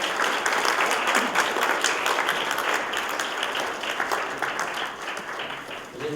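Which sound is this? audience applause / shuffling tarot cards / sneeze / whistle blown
audience applause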